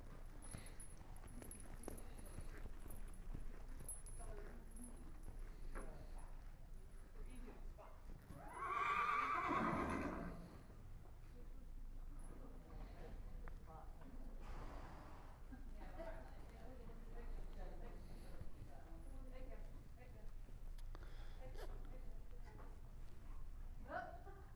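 A paint horse whinnies once, loud and close, in a brief burst midway, with faint hoof clip-clops scattered through a working session while someone talks throughout.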